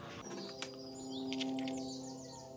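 Heavy pigeons, a male and a female, give a short, soft, droning coo with a few brief chirps, heard close and fairly quiet.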